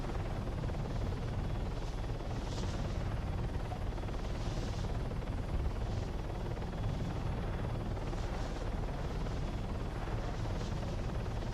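A helicopter in the video game Arma 3 flies close behind, its rotor and turbine making a loud, continuous, throbbing roar that stays steady for the whole stretch with no one talking.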